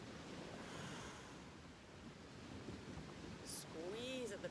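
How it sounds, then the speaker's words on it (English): Ocean waves break on the shore at sunrise on Saturna, a continuous washing roar of surf with a faint chirp near the end, recorded outdoors during a calm, quiet workout. "Oh, the waves are picking up."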